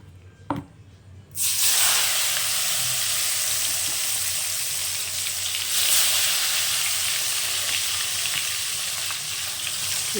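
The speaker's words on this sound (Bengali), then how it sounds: "যে আম কেটে নুন হলুদ মাখিয়ে রেখেছি এবার আমি তেলের মধ্যে দেবো" Mango pieces coated in salt and turmeric drop into hot oil with five-spice (panch phoron) and fennel in a wok for spicy mango pickle, setting off a sudden loud, sustained sizzle that continues steadily after a brief clink.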